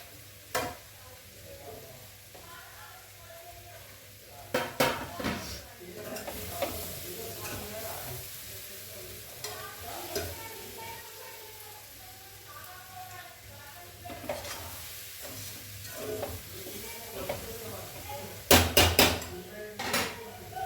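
Butter pepper chicken fries and sizzles in a pan while a metal utensil stirs and scrapes it, with irregular clanks and clatters over the hiss, close up, and a quiet voice speaks briefly in places.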